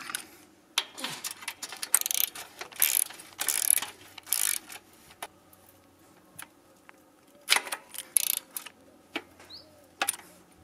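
A Lidl Powerfix ratchet wrench working a nut, loosening then tightening it, in close bursts of rapid clicking pawl ratchets separated by brief pauses, with faint birdsong in the background.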